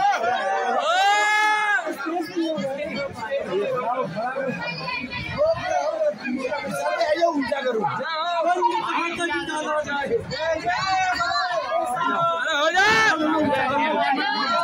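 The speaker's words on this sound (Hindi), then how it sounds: "भीड़ उमड़ी हुई है" Crowd at the gate of Badrinath temple, a dense babble of many voices and shouts close around, loud and continuous with people talking nearby.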